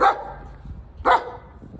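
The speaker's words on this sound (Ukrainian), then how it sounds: "Даже собственний пес." A dog barks twice outdoors, two short sharp barks about a second apart, fairly close and clear with no talk over them.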